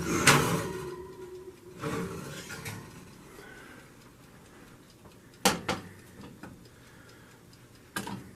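A cornbread pan is pulled from a home oven with several sharp metallic clanks and clicks spaced a few seconds apart, and quieter rattling in between.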